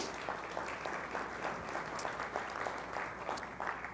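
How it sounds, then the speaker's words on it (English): Luncheon audience applauding, a steady wash of many hands clapping at moderate distance for several seconds, with no talk over it. "why don't you give yourselves a round of applause for the great jobs you're creating"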